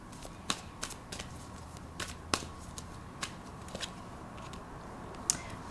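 Oracle cards shuffled for a tarot reading, a quiet run of crisp riffling snaps and flicks at an uneven pace, heard close and without talk.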